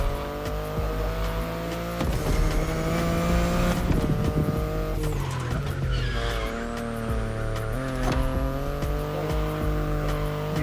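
A BMW electric sports car is driven in the racing game The Crew Motorfest, its smooth whining motor tone shifting pitch through acceleration, with repeated tire squeals and skids over a steady loud soundtrack.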